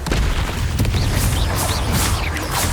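Repeated fiery spell blasts from Confringo casting in the Hogwarts Legacy game during a dragon fight, loud continuous booms and bursts layered densely over a rumbling low end.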